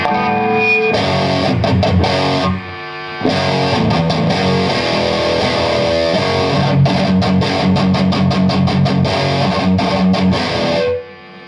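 Heavily distorted electric guitar chugs through a driving metal rhythm with palm-muted bursts and brief stops, loud and up front.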